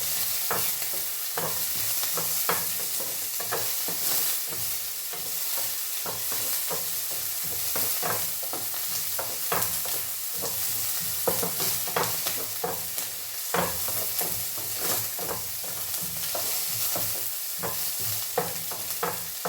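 Food sautéing in a pan for a breakfast dish, giving a continuous close sizzle with frequent sharp stirring clicks and utensil scrapes scattered throughout, loud and steady with no talking.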